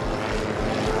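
Steady rotor-like engine drone, fairly loud and continuous, as from a helicopter flying nearby.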